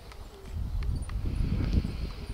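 A horse canters in a dressage arena, its hooves thudding in a steady, fairly close rhythm with soft scuffing on the footing and no speech over it.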